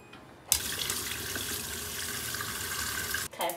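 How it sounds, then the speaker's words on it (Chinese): Water gushes from a tap into a pot in the kitchen, a close steady rushing flow that starts abruptly and runs for a few seconds before cutting off. "倒上水"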